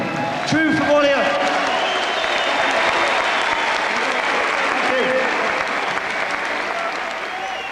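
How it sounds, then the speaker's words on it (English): A boxing arena crowd at the MEN Arena applauds for Ben Tackie after a Ricky Hatton light-welterweight title fight, steady clapping and crowd noise filling the hall while a voice talks over it. "I give a round of applause to Ben Tackie."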